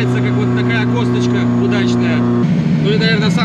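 An outboard boat motor drones loudly and continuously up close on a lake, its pitch dropping partway through as the engine changes speed.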